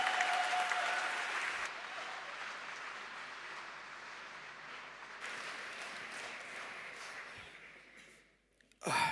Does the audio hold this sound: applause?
yes